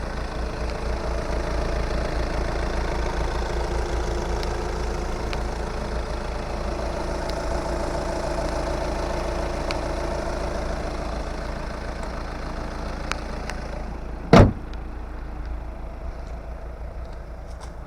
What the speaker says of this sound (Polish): silnik suchy, pracuje równo, odpala ładnie